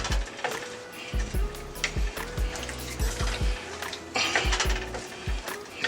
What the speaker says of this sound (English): We're gonna stir that up in there real good